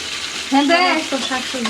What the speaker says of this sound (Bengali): আর এখানে করলা ভাজির পেঁয়াজ ভাজা হইতেছে